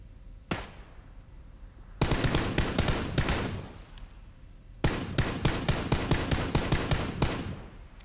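Rapid automatic gunfire in the PUBG video game, a single shot followed by two long bursts of crackling rounds, loud and close with no talking.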